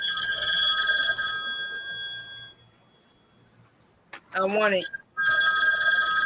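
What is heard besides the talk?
telephone ringing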